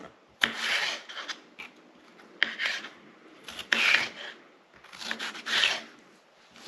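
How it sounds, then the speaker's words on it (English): A knife slices bell peppers into thin strips on a cutting board, giving several separate rasping cuts in short bursts with quiet gaps between them, close and fairly soft. "So now we just cut this into slices like this."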